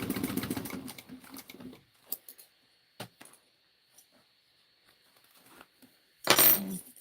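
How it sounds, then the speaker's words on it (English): A sewing machine stitching a bag runs in a short burst at the start, then falls quiet amid faint clicks and handling noises before a brief second burst near the end. "Just constantly shift things so that it's easier for you to sew."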